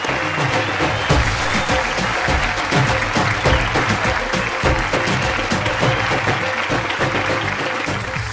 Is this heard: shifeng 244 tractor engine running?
no